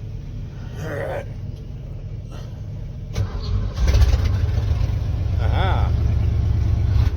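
A car engine without a clutch safety switch, in a garage, cranks and catches, then settles into a loud, steady rumbling idle as it warms up. Someone speaks briefly over it.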